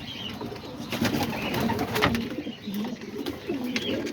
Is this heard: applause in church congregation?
no